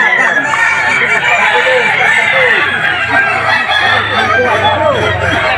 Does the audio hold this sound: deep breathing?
no